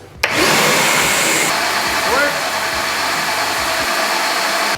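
Shop vacuum connected to a dustless sanding tool, switched on for a suction test, roaring loudly and steadily after a sharp start, with the pitch dropping slightly partway through and then holding.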